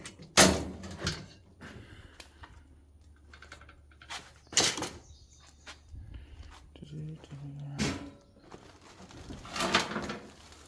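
Clunks, scrapes and rattles of a car door panel being pried off and handled, with several sharp bangs spread through the stretch amid quieter fiddling and light background noise.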